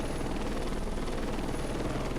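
A helicopter flies in the Heliborne video game: a loud, continuous rotor and engine drone with steady chopping, close and unbroken throughout.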